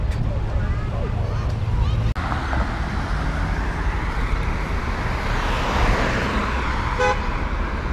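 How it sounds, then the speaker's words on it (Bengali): Main highway traffic in Beirut, Lebanon rumbles steadily as a dense, close wash of vehicle noise, with a short horn toot near the end and a voice talking over it. "এটা হচ্ছে হাইওয়ে মেন হাইওয়ে"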